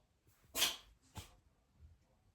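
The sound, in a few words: cat sneezing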